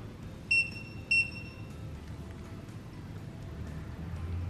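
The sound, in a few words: Presidium Gem Tester II buzzer beeping twice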